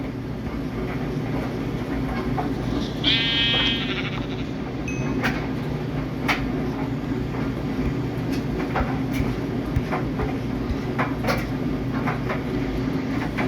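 Sheep bleating in Minecraft Pocket Edition (Bedrock), a single short bleat heard clearly over a steady game background hum with scattered clicks and taps.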